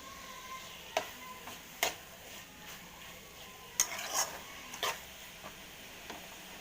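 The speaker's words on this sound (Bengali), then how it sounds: "কিছুক্ষণ এইভাবে নাড়াচাড়া করব। কিছুক্ষণ নাড়াচাড়া করে ভেজে নেবার" Minced meat keema with chopped tomatoes fries in a pan under a soft, constant sizzle, broken by sharp scrapes and clacks of a utensil stirring at irregular intervals.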